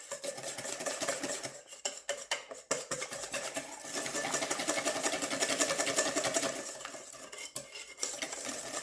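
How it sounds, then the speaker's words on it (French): Waffle batter being whisked to avoid lumps, a utensil clattering and scraping rapidly against a bowl in a continuous, busy rhythm close by. "On mélange bien pour éviter les grumeaux."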